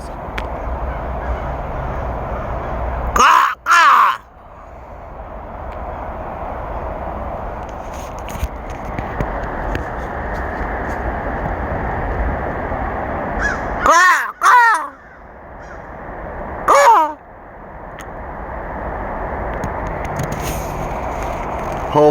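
A flock of crows caws loudly in the woods, harsh calls coming in three clustered bursts over a steady background hiss.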